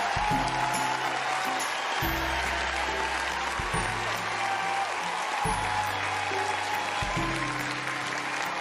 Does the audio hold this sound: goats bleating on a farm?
no